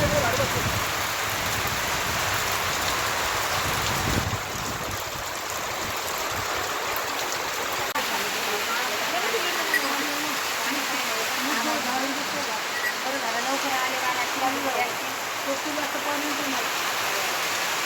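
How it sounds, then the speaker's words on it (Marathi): Rain falls steadily outdoors in a continuous hiss with the patter of drops on surfaces, while voices talk softly over it. "तर पाऊस येतोय, वातावरण असं बिघडलंय ना"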